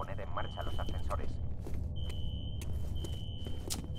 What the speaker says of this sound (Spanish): ¿Una alarma de incendios?